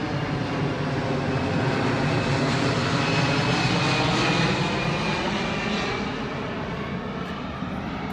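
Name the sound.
airplane flying overhead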